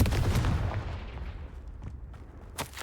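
Confringo fire spell blast in Hogwarts Legacy, a deep booming burst with low rumble that decays over a few seconds, followed by a sharper crack near the end.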